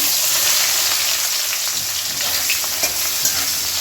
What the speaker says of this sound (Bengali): ফোড়ন ভাজা হয়ে গেছে, এখন দিয়ে দেই পেঁয়াজ কুচি।